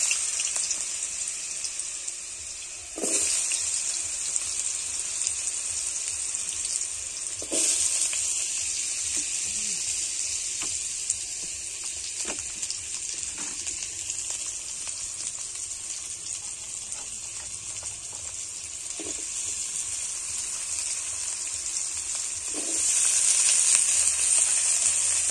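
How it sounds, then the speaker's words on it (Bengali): Pieces of giant taro (mankochu) sauté in a hot pan with a steady, moderate sizzling hiss, broken by a few sharp clicks and knocks. "এবার এই কচুগুলো ভালো করে কষিয়ে নেব।"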